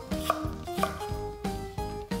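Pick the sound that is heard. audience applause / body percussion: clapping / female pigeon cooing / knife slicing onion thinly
knife slicing onion thinly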